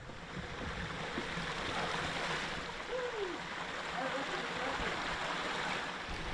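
A small creek with a tiny waterfall flows through a cool canyon in Zion National Park, a continuous close babble of running water with a brief bird chirp partway through.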